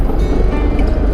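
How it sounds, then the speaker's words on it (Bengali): The engine of a launch ferry on a river trip from Dhaka to Chandpur, a loud, dense, steady rumble and drone, close by and alone. "লঞ্চের ইঞ্জিন"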